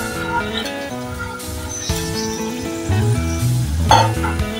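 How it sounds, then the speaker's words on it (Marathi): Brown chickpeas go into a hot tempering with asafoetida and set off a steady, fairly loud sizzle and crackle that swells near the end, with tonal background sounds running underneath. "आता यामध्ये घालूया चणे, चॉकलेटी चणे घेतलेले आहेत"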